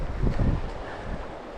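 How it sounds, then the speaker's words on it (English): Gusty wind buffets the microphone beside a Pennsylvania creek, a loud, rough rush lasting under two seconds with no voices. "I need to wait till the wind stops blowing."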